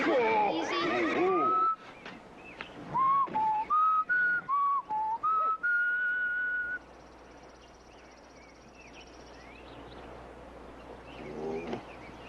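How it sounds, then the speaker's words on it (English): A person whistles a run of short, clear, melodic notes to calm a horse, close and fairly loud, and speech comes before and after the whistling. "you're gonna have to teach me that whistle"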